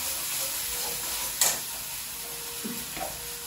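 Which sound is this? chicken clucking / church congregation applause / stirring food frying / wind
stirring food frying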